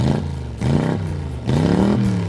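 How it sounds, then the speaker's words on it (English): A car engine revving in a radio ad, surging in two loud climbs with rising pitch and a brief drop between them, close and forceful, with no voices. "Rev up your engines."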